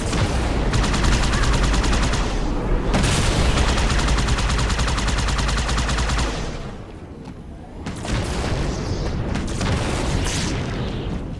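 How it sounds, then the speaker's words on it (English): Heavy gunfire in Halo 2 on the Delta Halo mission: loud, sustained bursts of shooting and booms, a brief lull near the end, then firing resumes. "Who the hell's shooting at me?"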